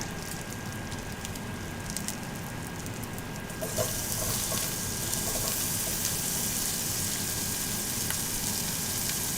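Onions and a splash of water hit a hot skillet, the steady hiss jumping into a louder, crackling sizzle partway through and carrying on without any talking.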